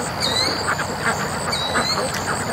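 A flock of Muscovy ducks swimming by a dock, giving soft repeated quacks and calls at moderate distance over steady outdoor background noise.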